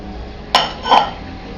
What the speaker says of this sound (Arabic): هقلبها بمعلقه